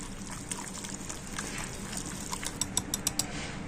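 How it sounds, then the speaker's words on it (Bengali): Water poured into a bowl of semolina batter and stirred, a soft steady wash of liquid and mixing with a run of sharp clicking taps near the end, close and fairly quiet, no voices. "এখন আমি দিয়ে দেব জল তো জল দিয়ে আমি একটা ব্যাটার তৈরি করে নেবো"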